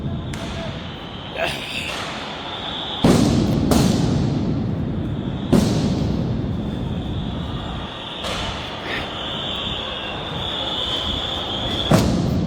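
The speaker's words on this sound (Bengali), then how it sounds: "দেখছেন যে আবারও সাউন্ড গ্রেনেড" Sound grenades exploding one after another at a night street protest in Shahbag, Dhaka: sharp, loud blasts at irregular intervals with rumbling echoes between, under continuous excited talk and crowd noise.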